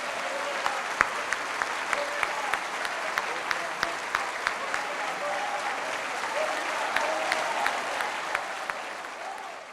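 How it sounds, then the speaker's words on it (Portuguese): A church congregation gives a sustained round of applause, a dense steady wash of clapping with a few sharper individual claps standing out, fading slightly at the end. "Vamos dar mais uma salva de palmas."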